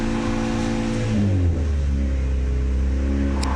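A Mazda 2 engine revs up as the throttle is pressed, its steady mid-pitched drone climbing smoothly and then holding at a higher, sustained pitch, close and alone without talk.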